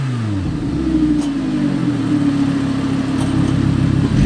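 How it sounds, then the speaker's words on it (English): An Audi R8 with a V10 engine and stock exhaust revs loudly and up close, its pitch climbing and holding in a sustained, steady roar. "really hear that V10 roar"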